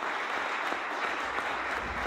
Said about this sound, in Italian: mi sento di fare un applauso a Fabio Zita